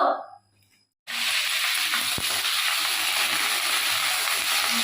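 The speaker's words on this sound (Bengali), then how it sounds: "ওইখানে ফুলকপি ভাজা বসিয়েছি" After a brief quiet moment, a steady loud sizzle of cauliflower frying in hot oil fills the pan, hissing continuously without pause.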